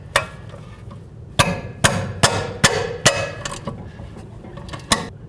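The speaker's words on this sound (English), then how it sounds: "Now we're going to go ahead and remove our caliper bracket bolts from the back side here." Sharp metallic impacts ring out from work on the caliper bracket bolts of a 2008-13 Mazda 3 rear brake: about eight loud, irregular hits with brief gaps, close by with no talking.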